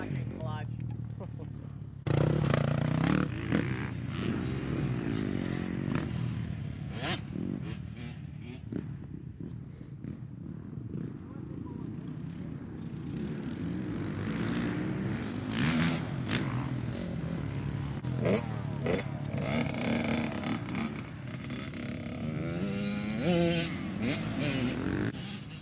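Dirt bike engines rev and rasp around a custom dirt track ridden by professional riders, a steady loud motor drone with revving swells throughout, with people talking over it.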